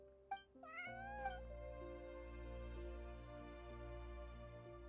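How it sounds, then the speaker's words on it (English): A cat meows in Genshin Impact, two short high cries close together, heard alone over a soft, steady game music backdrop. "Meow."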